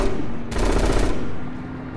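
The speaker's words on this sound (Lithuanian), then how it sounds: "Ir Krisa šaudo kaip pamišėlis" Chris fires a gun in Resident Evil 6 with a loud, rapid automatic burst of about half a second, set against a dense game backdrop.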